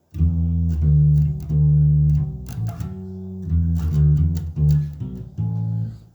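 Bass guitar playing the second-verse riff, a string of sustained low notes with short breaks between phrases, close and loud with no talking.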